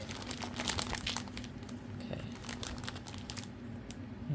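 A coffee bag being handled and crinkled close up, a steady stream of papery crackles and rustles with no talk.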